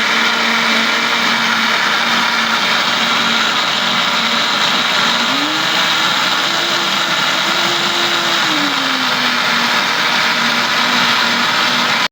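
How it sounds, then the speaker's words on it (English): A kitchen blender runs continuously while mixing cake batter for a blueberry cake, a steady loud whirring drone whose pitch shifts slightly partway through, with no speech. "Cover your blender. It's on here."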